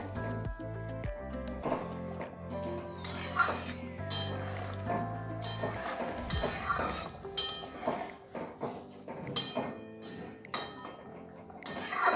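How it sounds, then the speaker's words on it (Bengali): Utensils clink and scrape against a pot as garam masala is stirred into a Bengali egg curry with potato and capsicum, with steady close scraping and tapping throughout. "এবারে হাফ চামচ গরম মশলা দিয়ে দিলাম এবারে ভালো করে মিশিয়ে নেবো"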